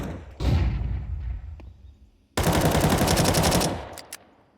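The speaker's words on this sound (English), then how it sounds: "Ooh, missing a few shots" Gunfire in a Counter-Strike match on the Ancient map, with loud sustained bursts of automatic fire, a pause, then a second long dense burst ending in a few isolated shots.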